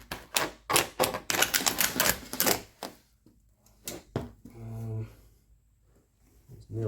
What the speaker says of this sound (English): pull this carpet up, see what we've got.